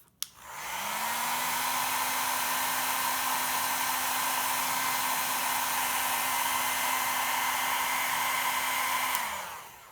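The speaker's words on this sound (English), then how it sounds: "I'm gonna use the hairdryer to warm the area until I feel a little zap" A hair dryer warming an area blows steadily and loudly for nearly ten seconds, a constant motor whine with rushing air, switching on at the start and cutting off near the end.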